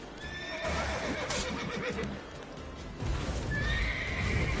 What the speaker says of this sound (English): Get on the horse, dum-dum.